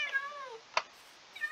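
A video game cat gives two drawn-out meows, the first falling in pitch and the second shorter near the end, with a sharp click between them, close and clear against quiet background.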